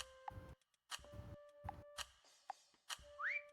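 Short whistles and pitched tones sound amid clicks and ticks in the video game Meccha Chameleon, a sparse run of separate beeps ending in a rising whistle, fairly quiet with no talk.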